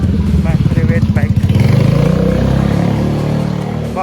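A private motorbike engine runs nearby with a rapid, throbbing pulse that smooths into a steady rumble, with a person talking over it.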